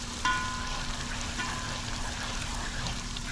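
Mango and celery achaar cooking in hot oil gives a steady, continuous sizzle and bubbling, close and even throughout, with no talking.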